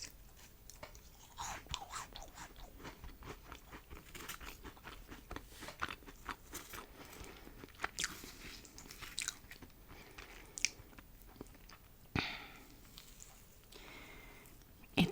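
Close, crisp crunching and chewing of flaky chicken pot pie pastry crust, with soft irregular bites and mouth sounds repeating steadily throughout, quiet and intimate with no talking.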